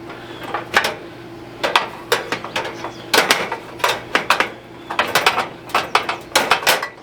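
Long pry driver prying and spreading the metal outer case of a Suburban RV furnace: a series of short scraping, clicking metallic clanks in irregular bursts, close and fairly loud over a steady low hum.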